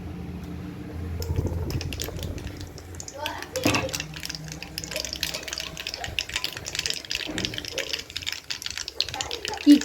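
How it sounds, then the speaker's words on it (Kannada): Mustard seeds heat in oil for a tempering, first a low simmer, then a dense scatter of sharp pops and crackles that grows busier, with a voice speaking at times. "ಈಗ ಸಾಸಿವೆ ಚಿಟಪಟ ಅಂತಿದೆ"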